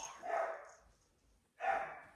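Two short dog barks, a mid-sized burst then a second one about a second later, close and fairly quiet, with a breathy lull between them.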